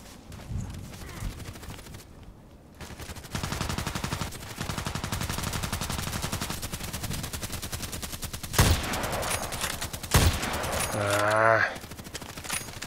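Sniper rifle fire in the online shooter Contract Wars, with a few loud, sharp shots standing out against continuous game background noise and clatter.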